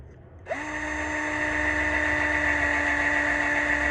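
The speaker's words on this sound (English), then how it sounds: "I need to take my drill and do some more cleanup." A power drill whirs up suddenly and holds a steady high-pitched spin, loud and close, running continuously without pause while cleaning corrosion out of a truck's service line fitting.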